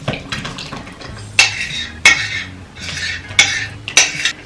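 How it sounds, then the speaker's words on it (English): Wet ingredients are poured into dry and mixed in a bowl, giving repeated sharp clinks and scrapes of a utensil against the bowl in an irregular rhythm, close and fairly loud, with no talking. "I'm going to pour the wet ingredients into the dry and mix them together."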